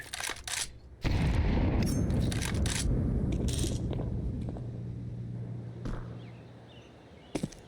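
Grenade explosion in Counter-Strike 2: a sudden loud blast with a rumbling tail that fades over several seconds, surrounded by sharp clicks and metallic taps before and after.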